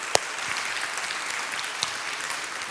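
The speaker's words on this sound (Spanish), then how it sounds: "Dale un fuerte aplauso a nuestro Dios." Congregation applause during a church service, a steady wash of many hands clapping at moderate loudness, with a couple of sharper claps standing out near the start and later.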